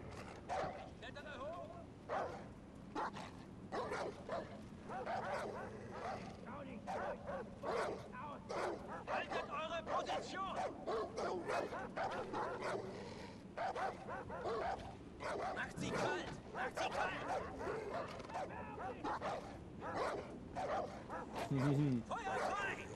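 Dog barking and yipping in the Far Cry 4 video game, repeated short barks and whimpers mixed into busy game ambience, heard under ongoing talk.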